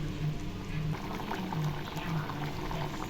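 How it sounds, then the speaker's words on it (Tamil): Water rinsed out of a mixer jar is poured into simmering chicken gravy, giving a steady close-up trickle and splash over a low bubbling cook-pot background. "மிக்சி ஜாரில் தண்ணி ஊற்றி அலசி கொஞ்சம் ஊற்றிக்கலாம்"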